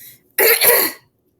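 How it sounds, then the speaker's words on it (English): A single throat clearing from allergies, close and fairly loud, in two quick rasping bursts lasting about half a second, followed by silence. "Please excuse if I end up clearing my throat."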